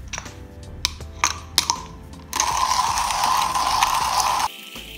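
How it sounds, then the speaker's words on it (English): A Comandante hand grinder set at 22 clicks grinds coffee beans for an iced V60: a few sharp ratcheting clicks, then a steady, loud mechanical crunching grind that runs for about two seconds before stopping abruptly. "I have my Comandante grinder set at 22 clicks. And I'm just going to load this up and grind it very quickly."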